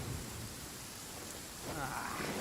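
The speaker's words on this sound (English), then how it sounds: "Uh-oh! Lightning storm!" Steady rain and rumbling thunder from a lightning storm in the video game Genshin Impact, a dense continuous wash that swells louder near the end, with no voices.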